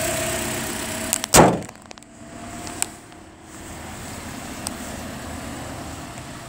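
The 1.8-liter engine of a 2016 Toyota Corolla LE runs steadily with a low, even hum. A sharp, loud burst sounds early, then the smooth running continues.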